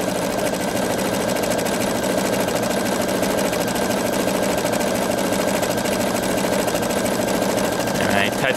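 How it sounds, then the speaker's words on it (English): A Pfaff Creative 3.0 sewing machine stitches steadily at close range, its motor giving a continuous even whir with a fast mechanical needle rhythm and no pauses. "And then start sewing."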